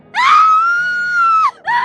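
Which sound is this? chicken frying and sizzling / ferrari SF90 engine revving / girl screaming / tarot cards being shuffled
girl screaming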